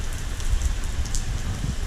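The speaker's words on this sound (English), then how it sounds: "Boy, that's a cold rain too." Steady cold rain pours down during a severe thunderstorm warning, with gusty wind, a dense continuous hiss with low rumble filling the clip and no thunder cracks.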